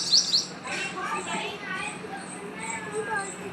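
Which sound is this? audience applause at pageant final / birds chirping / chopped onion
birds chirping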